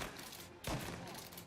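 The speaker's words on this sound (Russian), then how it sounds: "3 выстрела." A single sharp gunshot burst in the video game Mafia Definitive Edition, one loud crack cutting through a steady game background hum, brief and close.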